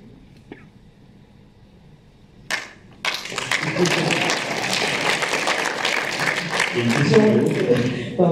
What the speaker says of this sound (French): quand vous applaudissez comme ça